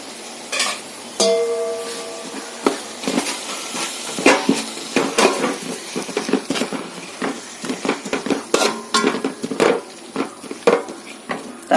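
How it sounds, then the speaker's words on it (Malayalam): Tomato paste and onions are stirred in a hot pan while cooking beef fry, with a series of scraping, clattering spoon strokes against the pan over a soft sizzle, close and fairly loud, with no talking. "തക്കാളി പേസ്റ്റിന്റെ പച്ചമണം മാറുന്നിടം വരെ ഇളക്കി കൊടുക്കാം"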